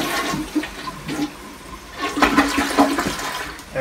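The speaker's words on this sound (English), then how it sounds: "That was a great flush." A clogged household toilet flushes with a rushing, gurgling swirl of water that rises and drains over a few seconds, close and alone.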